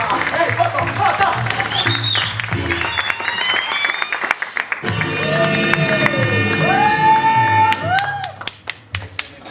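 Audience applause and scattered cheers for a band at a live presentation, with clapping rising and falling over about ten seconds while voices talk and shout over it.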